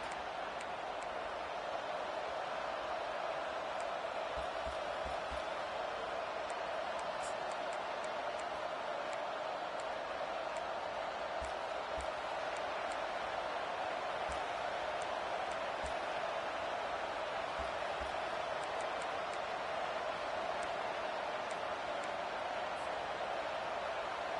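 Steady, distant roar of a stadium crowd in the Madden football video game, a broad continuous wash with faint scattered claps and no clear peaks, quiet throughout.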